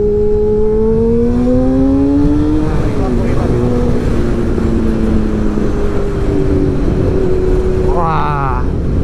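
A first-generation Yamaha R6 motorcycle accelerates hard, its engine pitch climbing, dropping at a gear change, then rising again, all under heavy rushing wind noise.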